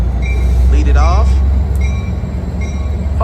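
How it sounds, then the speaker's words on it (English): Amtrak San Joaquin passenger train 717, led by F59PHI locomotive 2001, rumbles steadily past at a wet Emeryville station, with wheel and rail noise and someone talking over it. "This is Amtrak 717 San Joaquin train set. F59 PHI 2001. Lead it off."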